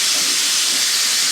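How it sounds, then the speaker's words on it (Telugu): A pressure cooker cooking vegetable rice lets out its whistle, a loud, steady, close hiss of escaping steam throughout. "ఇక కుక్కర్ కూడా కూత పెట్టేసింది అయిపోయిందని"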